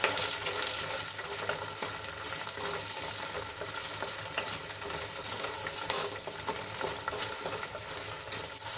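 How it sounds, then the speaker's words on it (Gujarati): Gunda (cordia fruit) sautéed and stirred in a pan produces a soft, even sizzle with faint spoon scrapes throughout, fairly quiet and unbroken, with no speech. "ગુંદા થોડાક સોફ્ટ થાય ત્યાં સુધી એને સાંતળી લઈશું"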